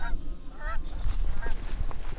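Canada geese honk on the move over a Maryland marsh in late fall, several loud nasal calls overlapping in quick, irregular bursts, close by, with no talk.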